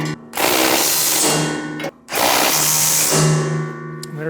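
A 3/4 inch socket drives home bolts on a MUSKOX snowblower during fan motor replacement, two loud sustained mechanical runs separated by a brief pause.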